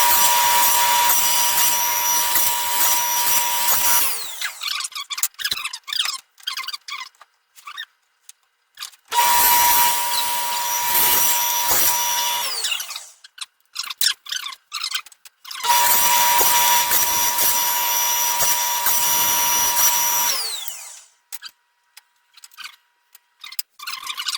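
Table saw trimming tenon cheeks on short cabinet door rails, making three long loud cutting passes, each followed by the blade spinning down and quieter shop handling noises.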